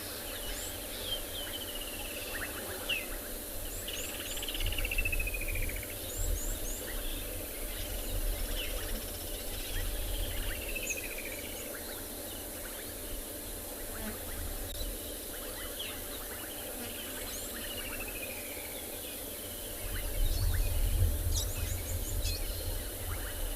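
Assorted bird calls and chirps, including woodland kingfishers, bubbling cisticolas and brown-headed parrots, come from a distance in a quiet outdoor setting at sunset at Tswalu, layered over a steady insect hum, with no voices.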